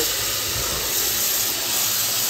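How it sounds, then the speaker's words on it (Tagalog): Water boiling in a pot to cook freshly foraged spring morel mushrooms, a steady close hiss and bubbling rush with no pauses. "Pakukulan ko po muna."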